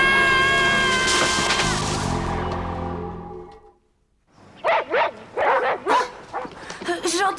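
Several dogs bark in a quick run of sharp, loud yaps, coming in close bursts after a stretch of music and voices, with short gaps between them.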